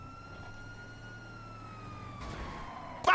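A police car siren in a car-theft video game holds a steady, slowly descending wail over low engine rumble, with a sharp loud burst of game noise cutting in at the very end.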